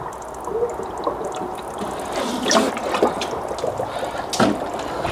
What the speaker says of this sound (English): I can hear that bleed valve working.